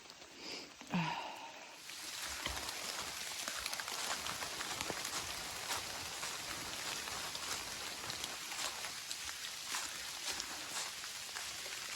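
Steady rain falls on the Appalachian Trail, deep enough to leave large puddles. After a brief quieter moment it becomes a continuous, even hiss of drops that holds close and fairly soft to the end.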